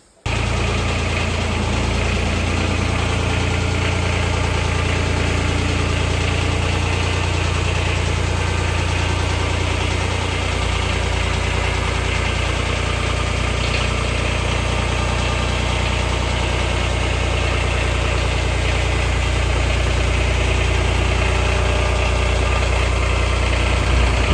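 A truck engine idles steadily and loudly for the whole stretch, a close, constant low rumble with vibration and no notable change in pitch.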